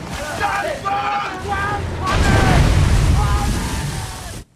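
Aboard a ship taking on water in a storm in the TV series Shogun, wind and crashing water roar steadily, swelling louder midway, while voices shout over the turbulent sea.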